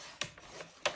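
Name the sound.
paper trimmer cutting cardstock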